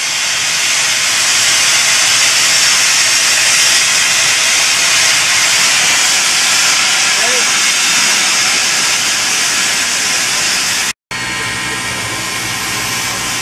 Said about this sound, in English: Starting to come steam.